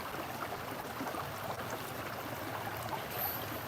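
Creek water flowing steadily, a soft continuous rushing and trickling heard from nearby without voices.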